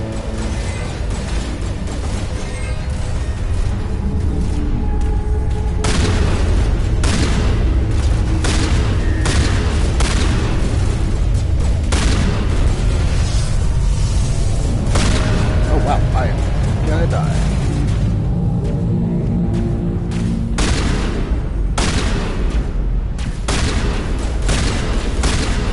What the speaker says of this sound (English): Something is shooting me.